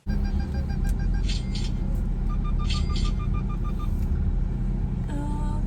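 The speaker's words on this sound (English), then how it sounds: "we are in the car on our way to Walmart." A car drives along a road with a steady, loud low rumble of engine and tires heard from inside the cabin, running continuously with faint higher tones on top.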